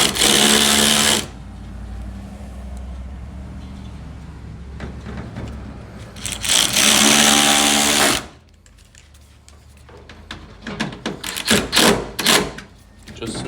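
T30 Torx driver on a 2nd Gen Toyota Tundra TRD Pro back-up camera mount, bursts of loud mechanical buzzing from the driver separated by quieter stretches, then a string of short clicks and ratchet taps.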